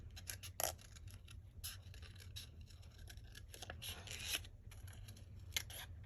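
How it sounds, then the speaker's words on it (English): Scissors snipping paper while fussy cutting a printed Christmas ephemera piece, a run of short crisp rasping cuts in an irregular rhythm, close and quiet, with no talk. "Oh, let's fussy cut her real quick."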